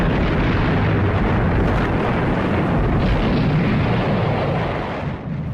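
Heavy aerial bombing of a mountaintop monastery during the Second World War, a continuous loud roar of blasts and rumbling explosions with no pauses, fading slightly at the end.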